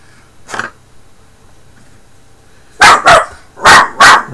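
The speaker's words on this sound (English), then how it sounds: "What are you barking at, Sadie?" A dog barks indoors near a model railroad workbench, one faint bark followed after a pause by four loud, sharp barks in quick succession.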